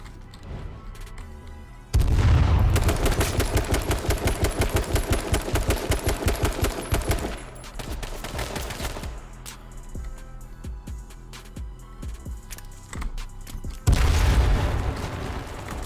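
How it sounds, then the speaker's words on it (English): A shotgun gunfight in H1Z1 brings heavy booming blasts at about 2 and 14 seconds, with dense rapid repeated shots and clattering movement between them, loud and close. "just shooting each other with shotguns"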